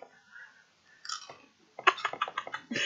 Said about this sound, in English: We're waiting for the crunch.